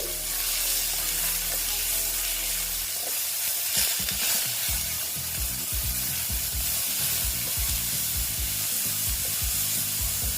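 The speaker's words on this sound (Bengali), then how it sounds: "দেখো রসুন আর পেঁয়াজটা ভালো মতন আমি ভেজে নিচ্ছি" Grated onion and garlic sizzle steadily in hot oil in a pan, a loud continuous frying hiss with stirring scrapes throughout, preceded by a low hum.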